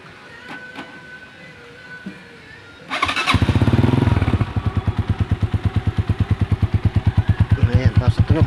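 A DL 150 motorcycle fitted with a welded Apido exhaust pipe starts after about three seconds of near quiet, then settles into a loud, steady idle with a rapid, even chugging pulse close by.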